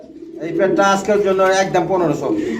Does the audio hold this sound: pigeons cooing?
yes